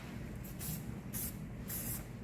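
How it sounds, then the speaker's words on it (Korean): Hairspray misted onto an updo in three short bursts, each a soft close hiss about half a second long with quiet gaps between them. "스프레이를 자꾸 쓰는 걸 익히셔야 돼요"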